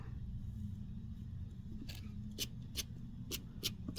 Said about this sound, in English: just get in there close and you can snip that out